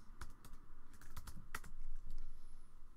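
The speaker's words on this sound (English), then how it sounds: "Just type that in, press enter." Soft, quick keystrokes on a computer keyboard as a plugin search is typed, an irregular close patter of taps with no talk.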